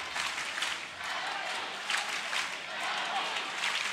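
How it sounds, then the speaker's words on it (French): A crowd in the stands of a sports hall applauds loudly at a table tennis match, a dense, continuous wash of clapping with swelling bursts, steady for the full few seconds. "Ah là, ça applaudit très fort."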